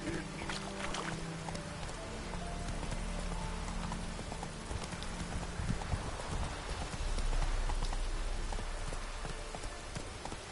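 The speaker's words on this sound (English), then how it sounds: "Run, Roach." A galloping horse in The Witcher 3 video game gives repeated hoof clip-clops in a quick rhythm, set among a dense game soundscape of rain-like hiss and ambient noise, at moderate level.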